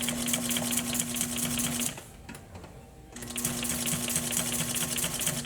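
A sewing machine stitches a box cushion in a rapid, even mechanical chatter with a steady motor hum, pausing for about a second before resuming at the same brisk pace.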